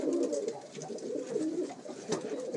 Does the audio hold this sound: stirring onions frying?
no